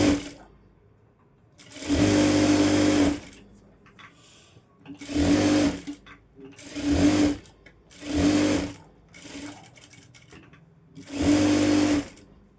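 A sewing machine stitches the back piece of a blouse in five or six loud bursts of rapid whirring, each a second or so long, separated by quiet pauses.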